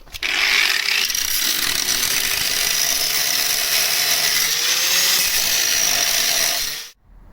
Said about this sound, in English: I've converted over onto a grinding disc for this